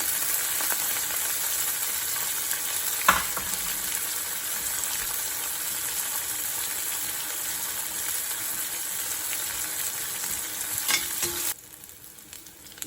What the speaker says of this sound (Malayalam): തേങ്ങാക്കൊത്ത ഒന്നായി എണ്ണ കിടന്ന് വരട്ടെ